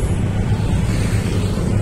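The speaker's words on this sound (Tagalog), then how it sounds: "Lakas ang hangin." Steady gusty wind buffeting a microphone outdoors, a constant low rumbling roar with no voices.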